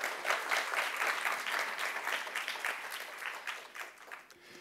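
An audience at a 2023 ASEAN conference session applauds, steady and fairly soft clapping from a seated crowd that thins out toward the end.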